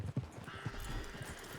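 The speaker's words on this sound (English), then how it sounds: "But this horse is a nice horse." Horse hooves clip-clop in Red Dead Redemption 2, a steady run of soft thudding steps close by with a low rumble beneath and no talk over them.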